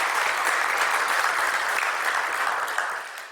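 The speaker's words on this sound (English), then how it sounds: "that also is deserving of a round of applause" A church congregation gives a round of applause for its sandwich donations, dense, even clapping that fills the room at steady loudness, tapering slightly at the end, with no voices over it.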